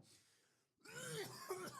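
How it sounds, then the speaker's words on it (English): A single harsh cough bursts out after a moment of near silence, followed by rough throat-clearing and a hoarse vocal sound close to the microphone. "I got this terrible cough still."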